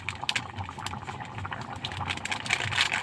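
Vegetable curry simmers in a pot with a steady, close bubbling and popping, irregular wet plops rising and falling without pause.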